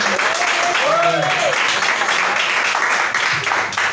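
A congregation at a home church service claps steadily and joyfully in a dense, continuous wash of hand claps, with a voice briefly singing or calling out over it near the start.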